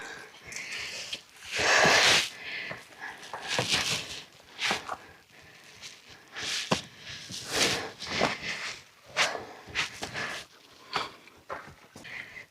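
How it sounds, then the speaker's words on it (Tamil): Heavy, rapid breathing from a hiker climbing a steep, root-stepped section of the Copolia trail in the Seychelles, with repeated loud gasping breaths close by and footsteps on the path. "செம்மையாக மூச்சு வாங்குது"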